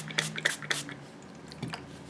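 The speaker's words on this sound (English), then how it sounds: "I'm just going to start laying down the tissue" Tissue paper is laid down and handled for card-making, giving three quick close crinkly rustles in a row, then a pause and a few softer handling sounds.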